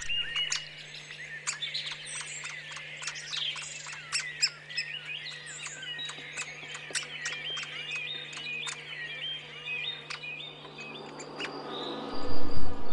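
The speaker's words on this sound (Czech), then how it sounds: "K hnízdu strakapouda nás dovedl křik jeho nenasytného potomka." Great spotted woodpecker chick calling insistently from the nest, repeated sharp high chirps in quick succession in a quiet valley, with other birds and insects faintly around and a steady low hum underneath.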